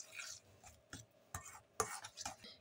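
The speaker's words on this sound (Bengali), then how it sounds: "দেখো, তেল আর চিনির গুঁড়ো প্রথমে ভালো করে মিক্সড করে নেব।" Oil and powdered sugar being stirred together in a bowl for a vanilla cake, faint scraping and light clicking strokes of a spoon at an irregular pace, quiet and close.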